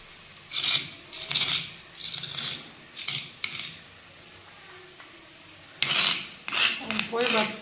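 Black cumin and garlic paste is ground by hand on a stone slab in rhythmic rasping strokes, about a dozen close scrapes in bursts with short pauses between.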